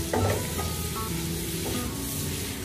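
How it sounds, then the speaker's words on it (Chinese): Bitter melon stir-fried in a wok over high heat, a continuous loud sizzle with spatula scrapes and tosses near the start, close up and without voices. "继续大火翻炒十几秒钟就可以出锅了"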